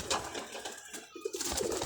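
Teddy pigeon cooing close by in soft, repeated low calls, with rustling and background noise between the coos.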